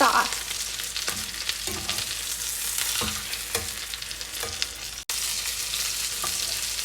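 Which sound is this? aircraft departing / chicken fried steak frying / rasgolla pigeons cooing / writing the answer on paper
chicken fried steak frying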